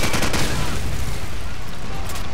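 Enemy gunfire in Call of Duty 4 Modern Warfare roars as a loud, continuous barrage of rapid shots with no pauses, filling the whole short stretch on its own.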